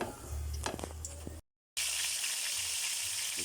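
Squash (kalabasa) hits hot oil in a frying pan and bursts into a loud, steady sizzle after a brief cut in the sound, with some earlier stirring clatter.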